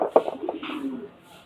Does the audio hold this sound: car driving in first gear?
no